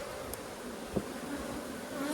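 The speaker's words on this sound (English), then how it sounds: "There's a lot of bees down here." Honey bees drone inside a hive as they prepare to draw comb, a close, steady buzzing hum that holds throughout, with one brief knock partway through.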